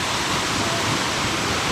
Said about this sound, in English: we're just all hanging out underneath this waterfall